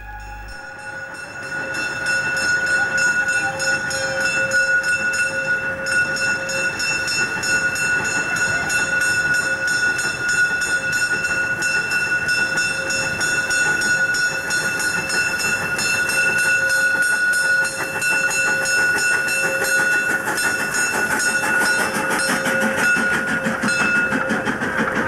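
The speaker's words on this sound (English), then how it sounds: "Street running, where the train effectively becomes a tram, is an interesting feature of the line." Steam train running along a street line in Eastern Europe in the early 1990s, a continuous loud rolling rumble of wheels and engine with sustained whistle tones sounding across the passage, no talking.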